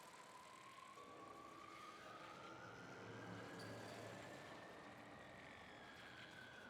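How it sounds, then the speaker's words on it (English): A rising siren wail like a police car siren in the video game Warframe, steady and moderately loud over a dense background of game noise. "Do I hear police sirens?"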